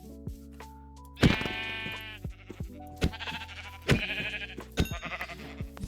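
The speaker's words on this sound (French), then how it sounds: "Je vois un petit mouton, donc on va le tuer direct." A sheep in the video game Minecraft bleats several times, close and clear, short wavering cries separated by brief pauses.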